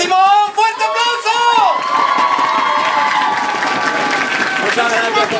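Crowd at a Tabletop Day gaming event in Mallorca claps and cheers after a tied game, with shouts and whoops over the applause, moderately loud and close.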